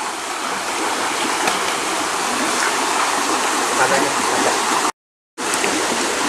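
A fast river rushing through an old Dutch-built railway tunnel, a loud, dense, continuous roar of flowing water, briefly cut to silence near the end before resuming just as strong.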